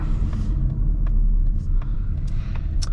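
A 2024 Mazda CX-30 Turbo Premium on the move, heard from inside as a steady, loud low rumble of engine and road noise with faint ticks over it and no talk.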